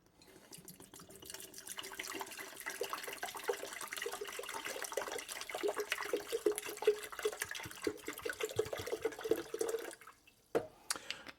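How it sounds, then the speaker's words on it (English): White vinegar poured from a bottle into a kettle for descaling, a steady liquid gurgle and splash running for about ten seconds before stopping, with a couple of clunks at the end. "And then we're going to pour in this bottle of vinegar."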